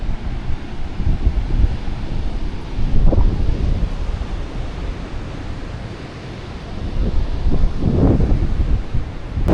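Strong wind buffets the microphone in gusts on a mountaintop in North Siargao, a continuous roaring rush that swells and eases, with no voices.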